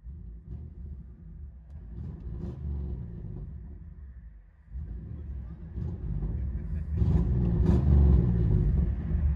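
A blacked-out 2000 Chevy Tahoe with a 5.3L V8 and true dual straight-pipe exhaust, heard from inside the cabin: a deep, steady engine rumble that dips briefly and then swells louder over the last few seconds.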